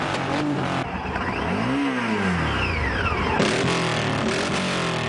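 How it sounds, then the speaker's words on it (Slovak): Motorcycles in a large rally ride past around Zemplínska Šírava, engines roaring loudly with a rising and falling pass-by as one machine sweeps close, others droning steadily behind. "V spanilej jazde okolo Zemplínskej Širavy sa viezlo až niekoľko tisíc motorkárov."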